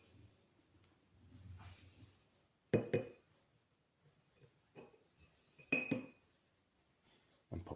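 A tablespoon clinking against a glass honey jar, a few sharp separate clinks and taps spaced out over several seconds between quiet stretches, close and moderately loud.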